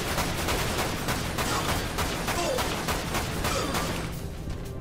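Enemy gunfire in Dirge of Cerberus: Final Fantasy VII crackles in rapid, dense bursts of shots that overlap continuously, loud and close, easing slightly toward the end.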